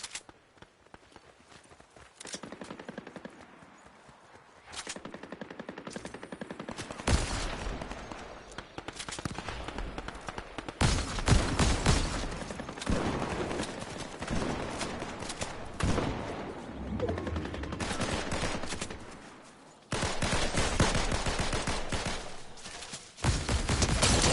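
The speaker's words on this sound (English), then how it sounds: "I hear a bike and I hear gunshots." Bursts of rapid gunfire from the video game Fortnite, with several volleys of shots and footstep sounds between them, loud and close.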